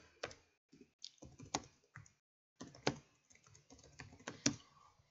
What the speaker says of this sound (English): All you have to do is just type your model